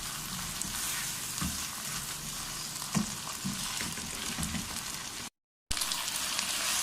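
Crushed garlic and onions sizzle steadily in hot oil for chicken biryani, with occasional scraping stirs cutting through the continuous frying hiss.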